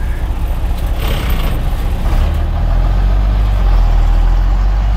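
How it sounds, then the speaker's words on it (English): A single-axle International Loadstar dump truck with a DT466 diesel drives along, the engine roaring loud and close. A turbo whine and rattles ride on top of the roar, and the low rumble grows heavier partway through. "Turbo sounds really good though."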